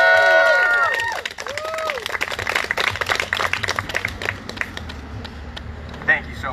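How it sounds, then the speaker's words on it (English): At a political rally, whoops and whistles ring out first, then the audience breaks into a few seconds of dense clapping and cheering that thins out toward the end. "Let's give her another round of applause."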